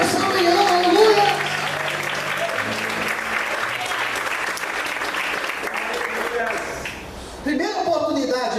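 Church congregation applauding through a Sunday morning service, a dense sustained wash of clapping over music and voices, loud at first, dipping near the end before picking up again.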